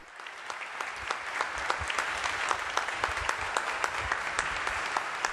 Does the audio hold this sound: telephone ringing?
no